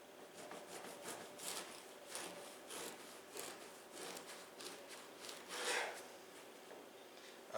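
A knife saws into a loaf of Sally Lunn batter bread with faint, repeated rasping strokes, quiet and close, with no talking.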